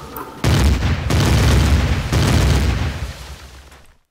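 A massive artillery turret fires in a video game tower battle, producing loud, heavy booms with sharp onsets near 0.4 and 2.1 seconds, each followed by long rumbling decay that slowly fades out.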